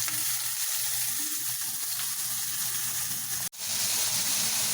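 Smashed beef burger patties fry on a hot griddle with a steady, dense sizzle, close and fairly loud, interrupted by one brief sharp cut near the end before the hiss resumes.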